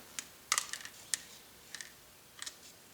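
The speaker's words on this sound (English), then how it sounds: "I'll take the side cutter and I'll get as close as I can to the individual parts without cutting the part." A side cutter snipping 3D printed parts off their sprue, giving sharp, close clicks and snaps in small clusters separated by short quiet pauses.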